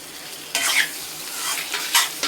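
Vegetables are stir-fried on a low flame, a soft continuous sizzle broken by several brisk stirring scrapes of a spoon against the pan, close by, no talking.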